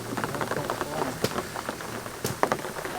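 Heavy rain pours on a muddy, freezing campsite in the middle of a track, a dense continuous patter with a few louder drops striking nearby surfaces.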